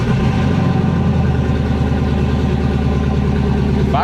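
Swapped LS V8 engine in a 1999-2006 GMC Sierra truck running, a loud, steady, close idle with a deep rumbling pulse that holds throughout.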